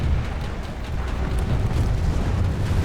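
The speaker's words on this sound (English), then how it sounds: "That was a good shot from a missile." A missile explosion in the video game PlanetSide 2 rumbles as a loud, sustained, dense low-end boom lasting the whole moment, with no talking.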